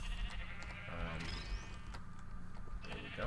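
A sheep in modded Minecraft bleats briefly amid game noises while someone talks over it.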